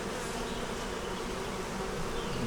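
Honey bees inside a hive produce a dense, continuous buzzing drone, steady and close throughout with no pauses.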